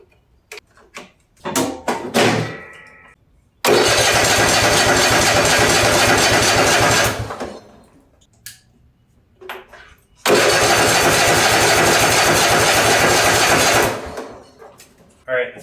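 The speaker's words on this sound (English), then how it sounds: "when I'm starting this engine up, or trying to, it may take a minute" A riding mower engine with no compression is cranked over twice in long, loud, even bursts of several seconds each without catching, with clunks and clicks before and between the attempts.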